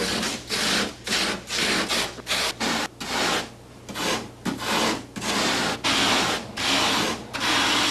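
Model maker rasping and carving light polyurethane foam into rough canyon cliff shapes from 8-foot foam blocks, a steady run of close, loud rubbing and scraping strokes in quick bursts with short pauses, no talk.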